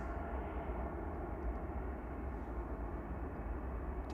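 An ASL cargo aircraft taxiing at Manchester Airport in the evening, a low steady engine drone and rumble heard from a distance, constant throughout without talk.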